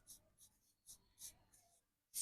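A math equation is written out in a series of short, crisp scratching strokes at an uneven rhythm, close and quiet, with a louder scrape at the end and no voices.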